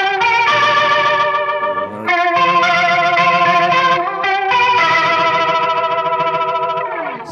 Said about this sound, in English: I had to come up with a rotary, you know, Leslie type simulation sound for Black Hole Sun.